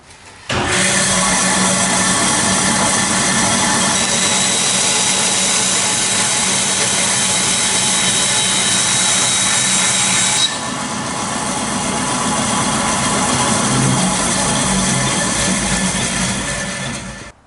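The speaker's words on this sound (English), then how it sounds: "Instead I'm going to use this one right here. This is a vertical bandsaw" A vertical bandsaw cuts through an RC truck body mount for a brushless Tamiya Clodbuster, a steady loud rasping drone running nonstop, with a brief shift in tone partway through and no talking.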